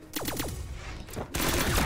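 Blasters fire in a duel in the Brawlhalla video game: quick repeated loud shots in two close bursts, a brief pause between them, with no talking.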